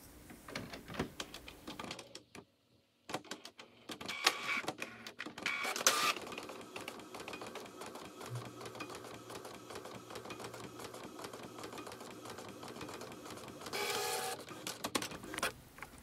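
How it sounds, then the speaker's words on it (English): An inkjet printer prints a dial scale at high resolution, its print head shuttling back and forth with mechanical whirring and periodic clicks and feed noises. "now I'm going to print the actual dial scale itself on the printer in a higher resolution"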